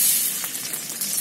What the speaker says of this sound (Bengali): এর মধ্যে তেল দিয়ে দিলাম কড়াইয়ে।